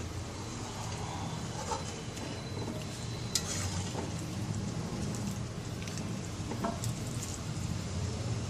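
Vegetable biryani mixture being stirred in a pot, a continuous soft sizzling hiss with scattered scraping and clinking of the spoon, fairly quiet and without voices.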